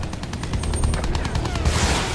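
Anti-air vehicles fire at a Bristol plane in Battlefield 1, rapid loud bursts of gunfire rattling continuously under engine drone.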